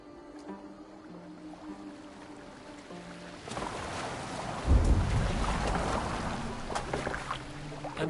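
A boat sails across water in Assassin's Creed Valhalla, starting with a quiet wind hiss and building into a loud rushing wash of waves and wind that holds steady to the end, with no voices.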